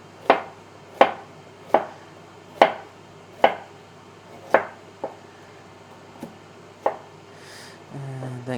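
A knife chopping vegetables into cubes on a cutting board, about ten crisp, evenly spaced knocks, close and clear, with no talk over them.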